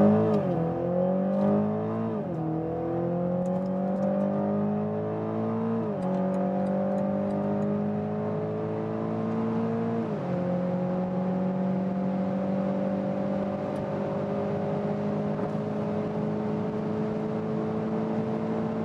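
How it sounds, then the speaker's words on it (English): Heard from inside the cabin, a BMW Z4 sDrive30i roadster with a four-cylinder engine accelerates hard: a loud, droning engine note climbs through each gear, dropping briefly at three upshifts before rising steadily again on an open road. "And let's really now accelerate it out."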